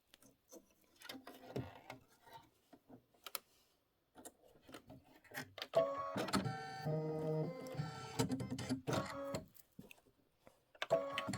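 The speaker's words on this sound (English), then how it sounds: "we're going to do the satin stitch on the top of the pineapple first" A Kimberbell embroidery machine sews a satin stitch on a chenille pineapple block. Its quiet rapid ticking and clatter comes in uneven bursts at first, then settles into louder sustained stitching with a rhythmic mechanical whir.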